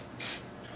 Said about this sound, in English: Take the accelerator and spray it here.